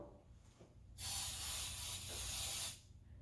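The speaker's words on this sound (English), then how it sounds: "take our mug and spray it on the inside" Cooking spray from a can sprayed onto the inside of a mug: one sustained close hiss lasting under two seconds, with quiet room sound before and after.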